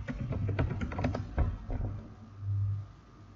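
Rapid typing on a computer keyboard to enter a word into a search box, a quick run of close, quiet key clicks that thins out near the end.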